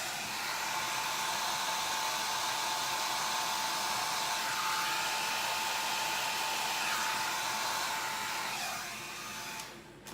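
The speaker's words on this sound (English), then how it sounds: "Today I'm gonna use my hair dryer on low because I don't want it to melt" A hair dryer on its low setting blows a steady, close airflow hiss with a faint motor whine, warming a craft transfer, running continuously for about ten seconds before easing off at the very end.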